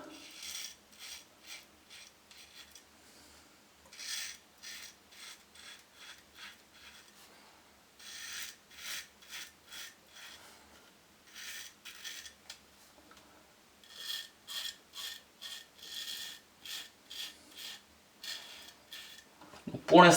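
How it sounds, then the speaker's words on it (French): Rhythmic scraping strokes of a Wilkinson Classic Premium safety razor shaving with the grain, close and crisp, arriving in short repeated bursts with brief pauses between passes. "Et je vais prendre la lame Wilkinson tant qu'à faire. Et première passe, sens du poil."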